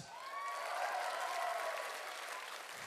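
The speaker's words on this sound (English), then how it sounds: "Can I get another big round of applause for my fellow cosplay judges?" Audience applause at a cosplay contest judges' round, a dense steady wash of many hands clapping with a few faint cheers and whistles, sustained throughout and tapering slightly at the end.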